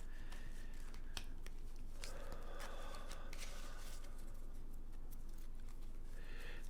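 Tarot cards are shuffled in soft, uneven bursts of riffling, flicking and papery rustle. The sound stays close and fairly quiet over low room noise.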